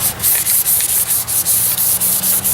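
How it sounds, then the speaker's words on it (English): Sandpaper of 1000 grit rubs lightly over a painted pipe on a rod carrier, making a close, steady scratching in regular back-and-forth strokes, about four per second, with no talk. "Okay, I've got my 1000 grit sandpaper."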